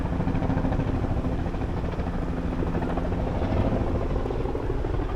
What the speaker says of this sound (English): Chopper going over us right there.